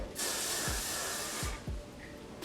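A steady hissing spray of hair spray lasting a couple of seconds, starting abruptly and cutting off, with faint low thumps beneath it.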